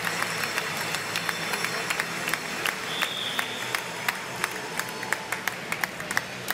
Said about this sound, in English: this crowd next to me, all around me, are getting really behind Jens now